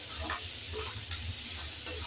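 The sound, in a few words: frying dal in a pan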